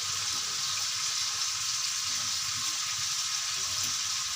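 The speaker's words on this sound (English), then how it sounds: "The prawn should fry both the side well." Prawns fry on a hot tawa with a loud, steady sizzle and hiss that runs unbroken throughout, close up and with no talk.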